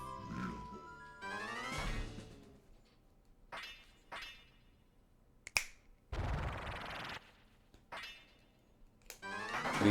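A voice imitating finger snapping, producing a handful of sharp, dry clicks spaced irregularly between bursts of other mouth noises, close to the microphone and fairly quiet.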